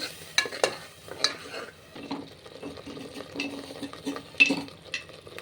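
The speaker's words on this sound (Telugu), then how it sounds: "ఈ మసాలా అంతా బాగా వేయించుకుందాం." Masala with curry leaves, salt just added, frying in a pan for a Sunday mutton curry, with a quiet background sizzle, intermittent scraping stirs and occasional clinks of a spoon against the pan.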